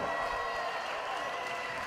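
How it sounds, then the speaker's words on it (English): A wrestling arena crowd roars and applauds after a tag team match, a steady wash of cheering and clapping heard at a moderate distance. "The crowd is going bananas here."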